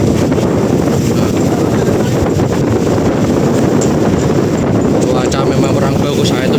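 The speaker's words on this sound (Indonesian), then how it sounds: "angin kencang, ombaknya tinggi ini sampai naik ke dek tongkang ini" Strong wind buffets the microphone aboard a coal barge at sea in bad weather, with high waves washing onto the deck; a loud, constant roar of gusts and surging water fills the whole stretch with no pauses.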